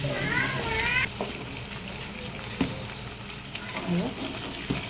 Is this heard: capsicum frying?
yes